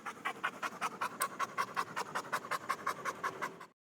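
A voice imitates a dog panting with rapid, evenly spaced huffs, about six per second, loud and close for over three seconds before stopping abruptly.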